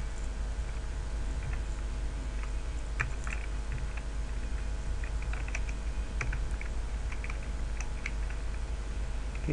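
Steady typing on a computer keyboard while writing PHP code, irregular clusters of light key clicks over a constant low hum, close and moderately quiet with no talking.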